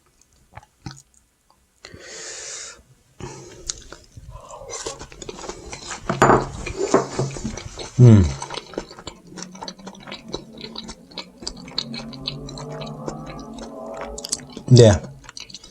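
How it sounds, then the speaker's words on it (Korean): Someone eats raw tuna sashimi, cutlery clinking against a plate and soft chewing close by, with a few louder knocks and scrapes; a person speaks briefly. "그럼 이 참치를 한번 먹어보도록 하겠습니다"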